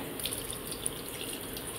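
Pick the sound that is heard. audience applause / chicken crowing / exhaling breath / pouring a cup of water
pouring a cup of water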